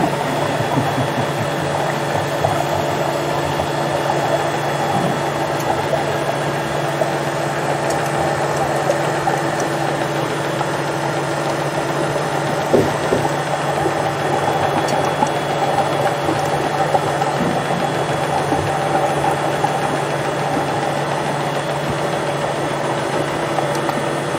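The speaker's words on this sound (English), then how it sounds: "the refrigeration went on already" A countertop ice cream maker's refrigeration unit runs steadily during a pumpkin cheesecake ice cream demonstration, giving a continuous mechanical hum with a faint ratcheting, geared whir, loud and close with no pauses.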